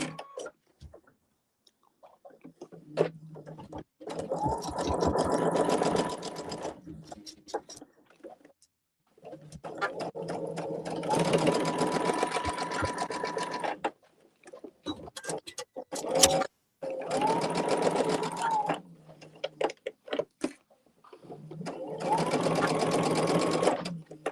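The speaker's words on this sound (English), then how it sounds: "now I'm just gonna sew this" Sewing machine stitching quilt blocks, running in four steady bursts separated by short pauses, close and clear, with some cooing birds and occasional speech in the background.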